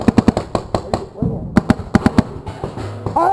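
Paintball guns fire on a maze-style paintball field in quick bursts of three to four sharp pops, two volleys close by, with shouting and talk between and over the shots.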